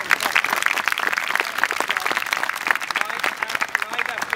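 Applause from an audience in a Ramadan tent for Omar and his team, with dense, moderately loud clapping and individual sharp claps standing out nearby.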